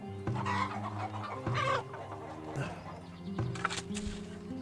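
Chickens cluck steadily on a farm homestead in the video game Farthest Frontier, a dense flock of fowl heard continuously alongside game ambience.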